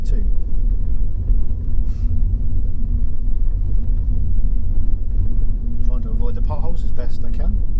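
A low, steady engine rumble from a car pulling away in gear on a road, heard from inside the vehicle with someone talking over it and some brief clicks late on.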